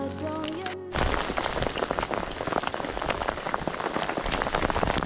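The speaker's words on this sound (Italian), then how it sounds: "Adesso piove proprio bene." Heavy rain pours down in the Dolomites of Brenta, a dense, steady patter of drops hitting surfaces that starts abruptly about a second in and continues loud and unbroken.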